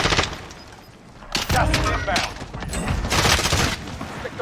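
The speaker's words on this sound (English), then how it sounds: "Dude, somebody just shot." Gunfire in a multiplayer video game, with sharp bursts of shots around the middle and near the end, loud against a busy background while players talk over it.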